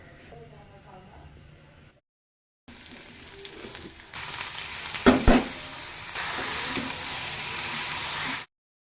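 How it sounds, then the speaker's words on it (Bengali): Boiled bottle gourd greens getting a hot oil tempering, a broad sizzle bursting in after a pause, with a sharp crackle spike as the spices hit, then a steady loud hiss continuing to the end; faint talk beforehand. "শাকটা ভাব দেওয়া হয়ে গেছে, বাগার দিয়ে দিব।"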